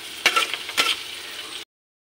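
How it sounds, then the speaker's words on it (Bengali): Vegetables fry lightly in a pan with a close, bright sizzle, two quick stirring scrapes breaking through before the sound cuts off. "সবজিগুলো একটু হালকা হালকা ভাজা হয়ে গেছে"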